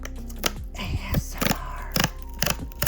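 A Star Wars Unlimited booster pack is torn open, with a series of sharp crinkling rips and rustles of foil wrapper close up, several bursts over a few seconds.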